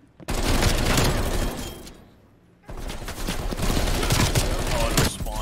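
Sustained bursts of rapid automatic gunfire in Call of Duty Cold War, loud and close, broken by a brief lull before firing resumes, with voices talking over it.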